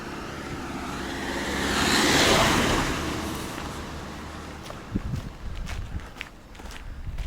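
A car passes along a village road in Kosovo, swelling to a broad whoosh at moderate distance and fading away, followed by close footsteps crunching on the roadside.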